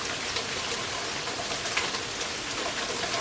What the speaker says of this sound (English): it's really been pouring.